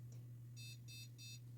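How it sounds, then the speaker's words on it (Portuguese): An old scrapyard desktop computer emits POST error beeps pointing to a RAM fault: three short, evenly spaced high-pitched beeps over a steady low electrical hum. "Mas ali já vi um probleminha já na máquina que tá dando os bips, né?"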